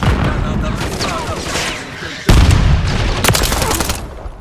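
A grenade detonates in Call of Duty: Modern Warfare 3 amid ongoing gunfire, with a sudden loud boom midway cutting through dense rattling shots and battle noise.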